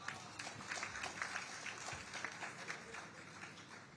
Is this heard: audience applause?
yes